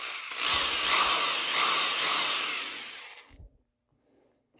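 A corded power drill spins with no load, a loud steady whine for about three seconds before winding down and stopping, followed by near silence and a small click.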